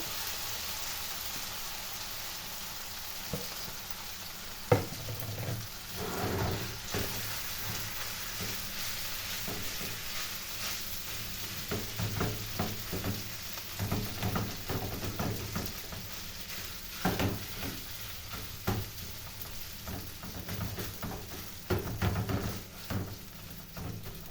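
Soft, continuous sizzling from a spinach and vermicelli börek filling frying over low heat in a pan, with occasional scraping and clatter of stirring, fairly quiet and close.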